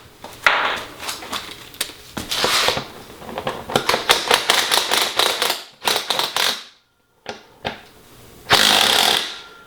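An impact-type power tool rattles in several loud bursts, separated by brief pauses and a short gap, while backing an original factory seat bolt out of a 2nd gen Camaro seat track.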